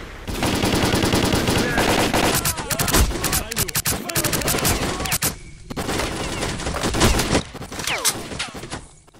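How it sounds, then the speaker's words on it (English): Video game gunfire in STALKER played on a PS4 console: dense automatic bursts and rapid shots crackle nearly continuously, loud and somewhat choppy, with brief gaps between volleys. "gunfire on PS4 outputs a bit more choppy than the Xbox"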